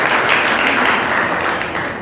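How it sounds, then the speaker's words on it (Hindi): An audience at a road safety quiz applauds, a loud, dense burst of many hands clapping together that fades slightly toward the end. "जोरदार ताली से"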